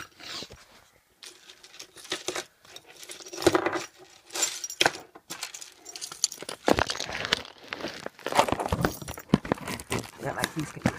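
Keys jangle and a sealed package for Nintendo games is handled and torn open, with irregular clinks, crinkles and rustles in close bursts through the clip.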